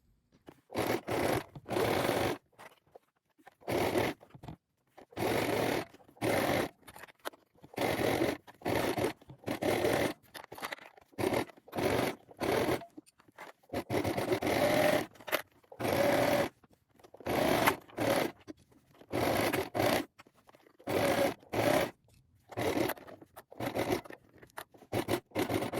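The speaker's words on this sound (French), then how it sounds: "Et vous allez coudre ici, donc à 2 mm du bord, donc piquer nervure et allonger votre point sur 4." A sewing machine topstitches fabric about 2 mm from the edge with a lengthened stitch, running in short repeated bursts separated by pauses and faint scraping handling sounds.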